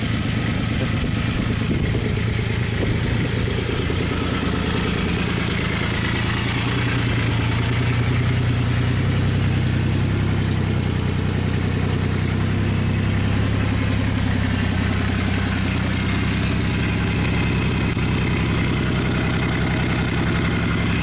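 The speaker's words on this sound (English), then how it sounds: "That's pretty mean with the blown exhaust." A 1979 Yamaha XS750 motorcycle engine with a blown exhaust idles loudly and roughly, with a raspy, unmuffled exhaust rumble that stays steady throughout with no voices.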